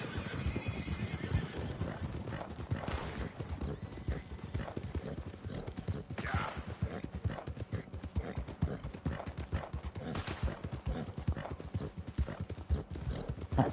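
Wild horses in the Red Dead Redemption 2 game gallop with a steady, continuous clip-clop of hooves, broken by several neighs and whinnies. The sound stays busy and fairly close throughout.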